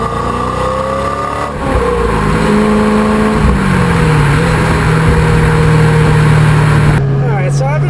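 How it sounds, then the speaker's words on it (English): A 2000 Chevrolet Corvette Convertible drives along, its loud engine tone rising and shifting as it accelerates through gears over heavy wind and road noise, close and constant. "I'm gonna drive this car around for a little while longer here"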